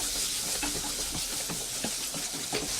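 Chopped capsicum and tomatoes stirred with onions in a frying pan, a broad hissing sizzle with scattered light scraping taps throughout.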